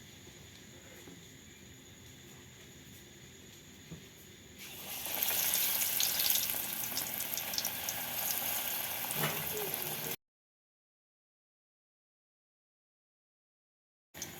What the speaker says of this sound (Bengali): তেল গরম হয়ে গেছে। এবার আমি বেগুনগুলোকে এর মধ্যে ছেড়ে দেব।